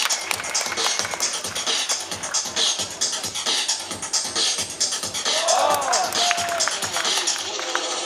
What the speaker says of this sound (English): give him a clap for some crazy stuff there